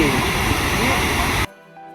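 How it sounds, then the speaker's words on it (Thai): Si Dit waterfall, a large tiered rock waterfall at Khao Kho in Phetchabun, Thailand, roars loudly and steadily up close, then cuts off abruptly partway through, leaving a much quieter background. "น้ำตกสีดิดตั้งอยู่ที่บ้านร่มโพร่มใส ตำบลหนองแม่นา อำเภอเขาค้อ จังหวัดเพชรบูรณ์ เป็นน้ำตกหินชั้นขนาดใหญ่"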